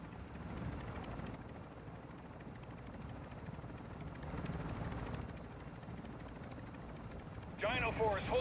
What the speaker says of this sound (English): Cargo helo inbound.